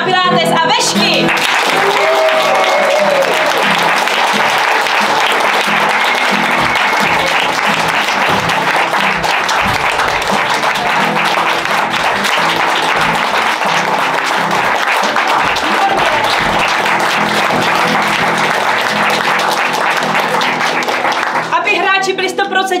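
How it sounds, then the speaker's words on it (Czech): A theatre audience applauds and cheers to welcome improv players onto the stage, loud, dense and sustained for about twenty seconds, with a voice briefly audible at the start and end. "A za tohoto potlesku, prosím vás, přivítejte hráče Vezmi kapra na Pilates a Vešky!"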